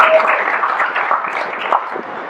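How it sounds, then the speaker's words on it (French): An audience applauding, a dense, steady wash of clapping that holds at a fairly loud level and eases slightly toward the end. "Applaudissez-le."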